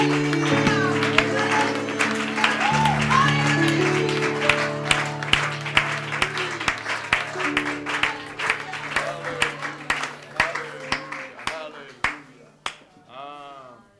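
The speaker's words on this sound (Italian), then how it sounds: "diamo un applauso di lode, di ringraziamento al nostro Dio per la sua immensa grazia" A standing church congregation at a Pentecostal service in Milan claps in praise of God, a dense, steady patter of many hands under sustained organ or keyboard chords and voices, thinning to a few scattered claps at the end.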